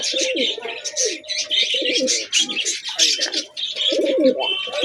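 Pigeons at a home pigeon farm coo and chirp continuously up close, overlapping calls filling the whole stretch with no talk.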